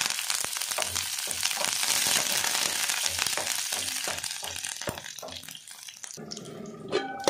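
Garlic, mustard seeds and curry leaves sizzle hard in a spoonful of hot oil, a loud continuous crackling tempering with rapid spits and pops throughout, easing slightly near the end.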